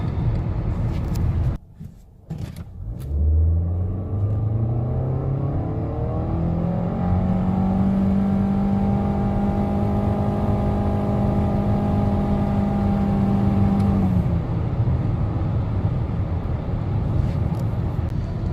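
A Nissan Altima 2.5 SV engine revs up in drive and stays revved out high, a loud, steady, rising whine that holds for about ten seconds before dropping off, with no talking.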